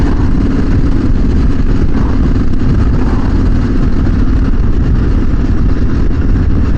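A motorcycle fitted with a custom twin-pipe exhaust rumbles loudly and steadily up close, its engine note continuous and low with no voices.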